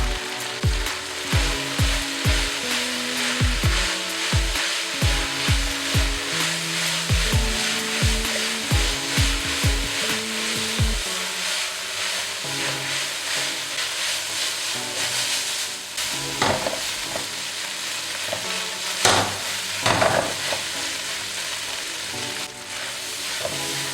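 Pork and holy basil stir-frying in a hot pan, a continuous strong sizzle with the spatula scraping and tossing in regular rhythmic strokes, close and loud, with tonal background music underneath.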